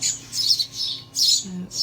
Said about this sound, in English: So these are all hand-reared sparrows that I've been looking after.